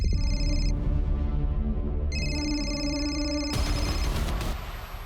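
A telephone ringing through a speakerphone after a number is dialed, steady electronic ring tones in repeated bursts that fill the clip and fade toward the end, with no talk over them.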